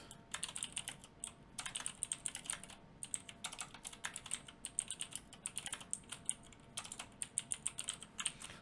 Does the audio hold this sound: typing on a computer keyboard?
yes